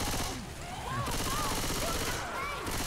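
Rapid gunfire in the Left 4 Dead 2 video game as players shoot at the Tank, a dense continuous barrage with game effects layered over it and no clear pauses.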